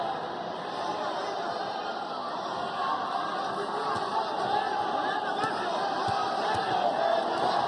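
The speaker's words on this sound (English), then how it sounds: "Crowd here in Guadalajara coming alive." A boxing crowd in Guadalajara roars and chatters steadily throughout a fight, a dense wall of distant voices with scattered shouts swelling slightly toward the end.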